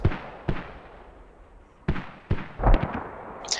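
Mortar shells burst in a competitive online war game match over Tempest Estate, a string of sharp booming explosions, some single and some clustered, landing at varying distances.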